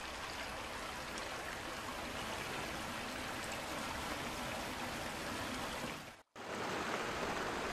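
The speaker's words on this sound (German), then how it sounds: "So, das Wasser geht jetzt irgendwie weg." Water drains away in a flooded room in the survival horror game Silent Hill 4: The Room, a steady loud rushing flow filling the scene, broken by a brief silent gap near the end before the gushing resumes.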